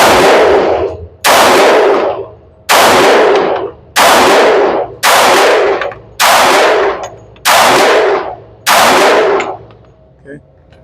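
Eight loud Glock 20C 10mm pistol shots fire in a steady, fairly quick cadence at close range, each with a sharp crack and a short ringing decay.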